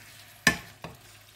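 Red curry paste with pork belly and bamboo shoots is stir-fried in a pan: two quick spatula scrapes land a moment apart over a faint background sizzle.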